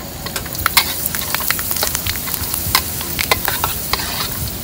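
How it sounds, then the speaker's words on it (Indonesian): Curry leaves sizzle and crackle in hot oil while being stirred into a frying red fish curry made with tongkol tuna, with steady close frying hiss and scraping stir strokes throughout. "Masak kari mesti ada daun kari. Masuk daun kari."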